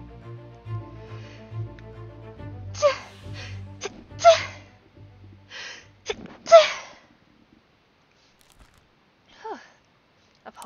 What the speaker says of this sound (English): Apologies for the sneezing.